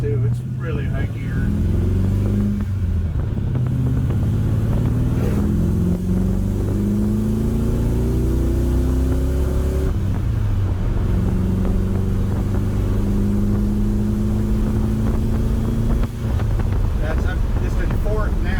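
A 1956 Ford F-100 truck cruising on the highway in fifth gear, its engine droning low and steady near idle with gear-shift pitch changes, heavy wind noise and someone talking over it.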